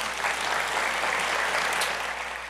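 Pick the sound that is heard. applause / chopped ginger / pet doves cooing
applause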